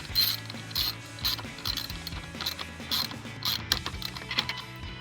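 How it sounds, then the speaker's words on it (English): A hand ratchet tightening screws on an S&B cold air intake fitted to an EcoBoost Ford F-150, a close, rhythmic series of clicking strokes with short pauses between bursts. "we're gonna go ahead and screw this back down."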